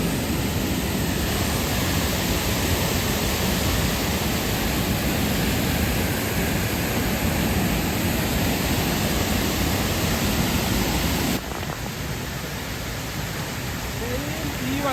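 Close to a large forest waterfall, a loud, dense, unbroken roar of falling water fills the whole stretch, easing slightly in level near the end.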